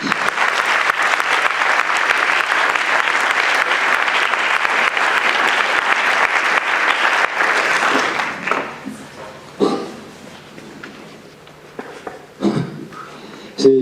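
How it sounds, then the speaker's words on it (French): An audience at an opening evening event claps in a dense, sustained round of applause that runs strong for about eight seconds, then breaks into scattered claps and fades. "Sous vos applaudissements"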